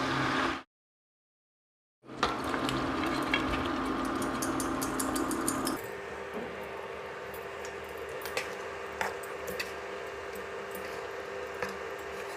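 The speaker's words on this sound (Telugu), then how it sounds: "మనం బాయిల్ చేసి ఉంచుకున్న చికెన్ని వేసుకుని బాగా కలుపుకోవాలి" Boiled farm chicken stirred into a pan of well-fried masala gives a steady, close frying hiss with scattered scraping ticks, after a brief gap of silence at the start.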